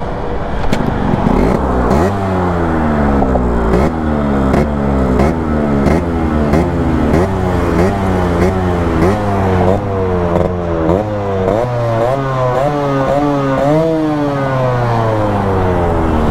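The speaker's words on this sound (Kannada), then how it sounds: "ಬನ್ನಿ ಈಗ ಸೈಲೆನ್ಸರ್ ಸೌಂಡ್" A restored Yamaha RX-Z two-stroke motorcycle rides fast, its silencer giving a loud, close exhaust note that climbs in repeated rising sweeps as the rider shifts up through the gears, with no talk over it.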